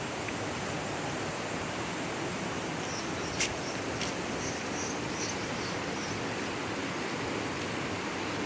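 Waterfall roaring as a constant, dense broadband rush, steady and moderately loud, with a brief faint click partway through and no talking.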